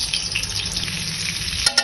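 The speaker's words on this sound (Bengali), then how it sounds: "কড়াতে দিয়েছি সাদা তেল, সাদা তেলের সাথে এই বাটারটা আমি পুরোটা দিয়ে দিচ্ছি।" Butter melting into hot white oil in a kadai, giving a steady close sizzle and crackle with a few sharper pops near the end.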